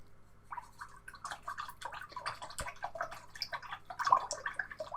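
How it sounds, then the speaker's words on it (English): An acrylic paintbrush is rinsed in a water pot, giving a busy run of small splashes, drips and clinks, close and moderately loud, with no talking. "Just washing my brush."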